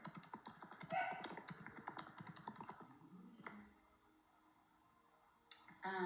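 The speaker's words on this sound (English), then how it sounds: "I'll type it here." Keystrokes on a computer keyboard, a quick run of close, crisp clicks for about three seconds, then a pause and a final short burst of taps.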